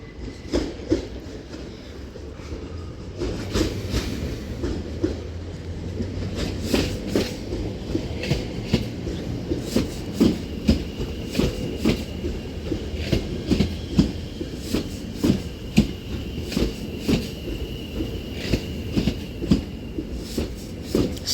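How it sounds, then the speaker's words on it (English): A doubled-up West Midlands Railway Class 730 electric train pulls into a station, with wheels clattering rhythmically over rail joints and a steady rumble building as the carriages pass close by. "Now terminating in is going to be a doubled up West Midlands Railway Class 730, which is forming the 1340 service from Redditch."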